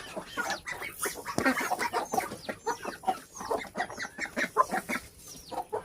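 Busy, continuous clucking and squawking from a flock of ducks, close by, with overlapping calls and a loud cackle partway through.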